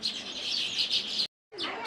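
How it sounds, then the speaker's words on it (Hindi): Small birds chirp near a nest at a heritage site in Somnath, Gujarat, a dense stream of high tweets that breaks off for a moment and then resumes, close and fairly loud, with no talk. "चिड़ियाँ, चिड़ियाओं का घोंसला देखिए।"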